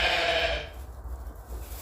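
A sheep gives one loud, close bleat that fades after a moment, followed by quiet background.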